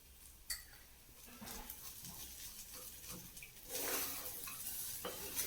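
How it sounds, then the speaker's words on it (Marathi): Rice being stir-fried in masala in a pan for spiced pomegranate rice, a soft sizzle with scraping stirs and occasional utensil clinks, quiet and close, louder briefly near the end. "आता आपण चांगला तांदूळ व्यवस्थित परतून घेऊ."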